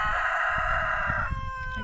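A rooster crows in one long, sustained call that holds steady before tailing off, close and loud, with faint rustling underneath and no talking.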